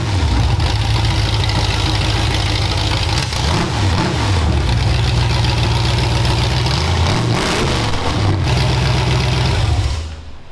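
A demolition derby car's engine fires up for the first time and runs loud and close, idling roughly, then revving in several rising and falling surges before cutting off near the end.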